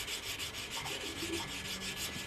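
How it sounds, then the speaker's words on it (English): Rhythmic rasping as the rough, freshly punched edge of a coin ring is sanded, quick repeated back-and-forth strokes close up, with no voices. "So I'm going to sand that edge a little bit,"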